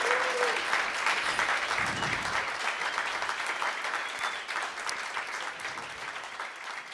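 Audience applause after a live jazz set by a small band, a steady dense clapping from a club crowd that stays loud throughout and fades slightly toward the end.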